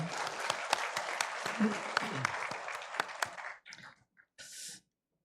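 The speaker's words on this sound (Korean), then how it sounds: "영광의 박수 올려드리겠습니다." Church congregation applause during a Sunday worship service, sustained clapping with some sharp claps that ends abruptly, followed by a few faint sounds.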